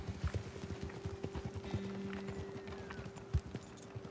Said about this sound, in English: You're using a different horse now, Captain Monroe.